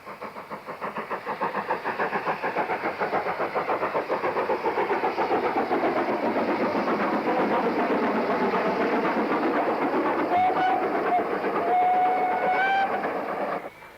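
Train 84025 departing from a station on a Lancashire and Yorkshire line toward Chorley, a loud rhythmic chugging and clatter that builds and holds steady, with whistle-like tones near the end.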